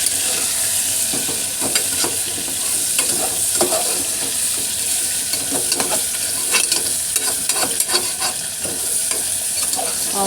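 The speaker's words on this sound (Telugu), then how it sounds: "తర్వాత క్యారెట్ వేసి అలా కలుపుకోండి" Chicken and carrot pieces sizzle in an oiled pan for chicken biryani, stirred continuously with a spoon that scrapes and taps the metal, a steady frying hiss throughout, close up and with no voices.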